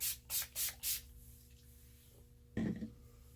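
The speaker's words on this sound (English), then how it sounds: "We'll spray our face again." Four quick hissing spritzes from a spray bottle misting a made-up face, evenly spaced and close, followed by quiet rustling and a soft handling noise.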